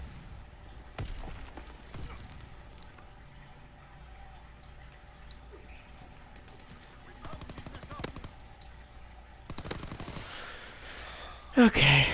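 Type 100 submachine guns fire in a World War II video game, with rapid bursts of gunfire in clusters, some distant and some closer, and a louder burst near the end, set against low ambient game noise.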